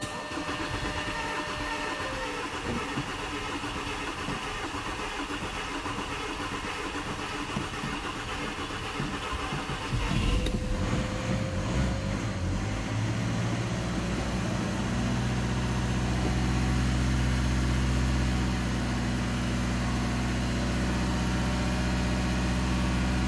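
A 2.0 TDI diesel in an Audi A6 C6 cranks and catches quickly after intake manifold, EGR and throttle body cleaning, then settles into a steady, rumbling idle heard up close.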